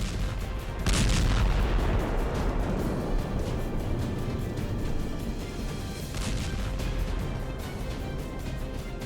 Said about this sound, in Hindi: आसमान से गिरी मिसाइल ने जमीन का जर्रा जर्रा थर्रा दिया।